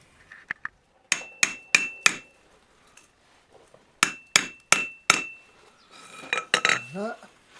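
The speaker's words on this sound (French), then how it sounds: "pour que les bords soient bien, on fait dépasser de l'enclume et on tape." A metal witch hat brim, held overhanging the edge of an anvil, is struck with a hammer: two bursts of four sharp, ringing metallic blows, a few lighter taps, then a brief clattering rattle.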